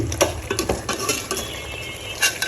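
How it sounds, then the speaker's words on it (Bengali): Curry with spices and Kashmiri chilli powder being sautéed in a pan, giving close, busy scraping and clinking of a spoon against the pan over a faint sizzle, continuous and fairly loud. "এই তো আমি একটু কষিয়ে নিচ্ছি"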